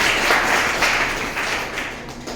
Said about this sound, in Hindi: ठीक है? तालियां।